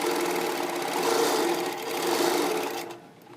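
A sewing machine stitches a quilting pattern of E and L shapes across grid fabric, its steady rapid whir continuing up close, swelling slightly and then tapering off near the end.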